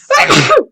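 A single sharp human sneeze, close and loud, a brief burst lasting under a second.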